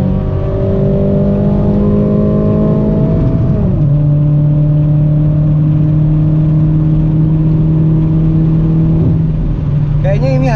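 A Toyota MR2 second-generation W20 revs as it accelerates, with a steady engine drone whose pitch drops at a gear change and then holds, loud and close from inside the car, with a voice talking over it.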